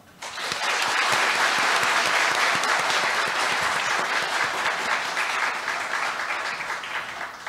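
An audience at Pusan National University's 76th anniversary ceremony bursts into applause for an award recipient. The clapping is full and sustained, starting abruptly, staying loud for several seconds, then easing slightly toward the end, with no talking.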